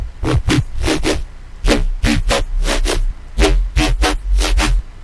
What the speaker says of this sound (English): Thank you so much for this rhythmic neuro bass sound.